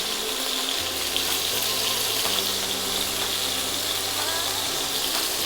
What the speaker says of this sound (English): Sear the meat in batches